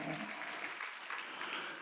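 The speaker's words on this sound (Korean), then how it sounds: "박수야." Church congregation applauding during a Sunday service in Incheon, a steady, dense wash of many hands clapping together for about two seconds with no talk over it.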